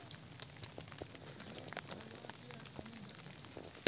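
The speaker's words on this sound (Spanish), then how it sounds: "Sí, está lloviendo todavía un poco." Light rain still falling outdoors on a rural walk, heard as a steady soft patter with scattered small drop ticks and crackles, faint and continuous throughout.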